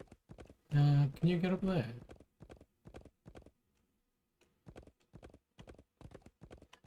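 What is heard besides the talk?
horse hooves clip-clopping in video game Wild West Dynasty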